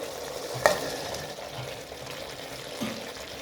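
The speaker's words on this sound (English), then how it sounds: "So I'm going to add the beef now." Marinated, fried beef goes into a thickened cornstarch sauce in a pan for Mongolian stir-fry beef. A sharp knock as it drops in is followed by soft, continuous stirring and a low sizzle.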